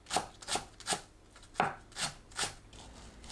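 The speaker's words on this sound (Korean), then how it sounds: "파를 작게 썰어주세요." A knife chops green onions into small pieces on a cutting board, with about eight crisp, evenly spaced taps, quiet and close, and no talking.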